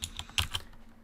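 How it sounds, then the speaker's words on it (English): A few crisp keystrokes on a computer keyboard as a security code is typed, close and fairly quiet, with a brief silence at the end. "now we are going to type in the security code"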